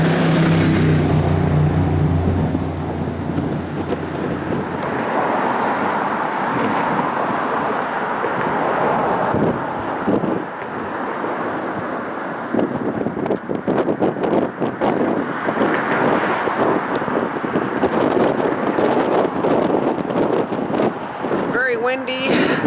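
Strong wind buffets the microphone in a continuous roar at Edmonton's High Level Bridge, with gusty rumbling and traffic-like noise in the background, and a voice speaking at times.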